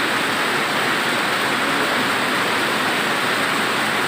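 Dense, steady roar of heavy rain pouring down, loud and unbroken throughout with no other sounds.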